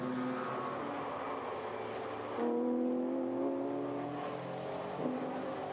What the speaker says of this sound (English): But Cao makes it through, getting ahead of Kenny Chung in the Ginetta.